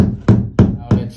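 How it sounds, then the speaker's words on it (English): A pin is tapped into place on a bathroom towel rack fitting. Three quick, close taps land evenly about a third of a second apart. "Gently tap it."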